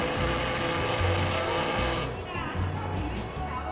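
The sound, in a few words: blender pureeing boiled broccoli and vegetables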